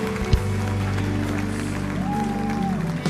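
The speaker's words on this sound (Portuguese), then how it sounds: "Isso, vamos aplaudir." A congregation at a church service claps along, a steady wash of applause over sustained organ or keyboard tones and low hum, moderately loud and unbroken for the whole stretch.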